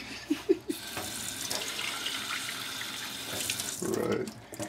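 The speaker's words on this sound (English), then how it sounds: "Give it a little bit more water in the cup." Water running from a tap into a cup during a hydraulic flow experiment with a pipette flow restrictor, a steady close splashing stream that swells louder near the end, with a few soft knocks at the start.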